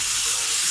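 Fried potato and eggplant tipped into a pan of sizzling cooked-down spices, giving a steady, close, bright hiss that holds evenly for a brief moment with no voices.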